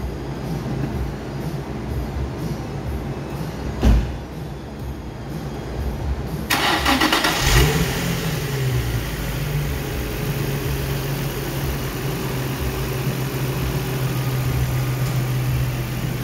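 A 2004 Nissan 350Z engine starting, with a short cranking burst that catches and settles into a steady, low idle rumble lasting several seconds, heard alone without speech.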